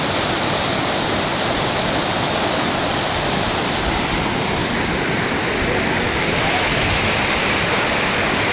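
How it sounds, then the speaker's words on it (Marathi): A waterfall pours in a steady, dense roar of falling water that fills the whole stretch, loud and close, with a slight shift in texture midway and no talking. "सुंदर असा धबधबा."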